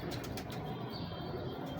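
Big-breeder pigeons of the Mushtarka Phulsira line flap their wings in a loft, a steady fluttering rush held at a moderate level throughout with no voices.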